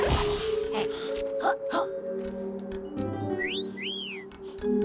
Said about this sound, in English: rather than that annoying whistling sound effect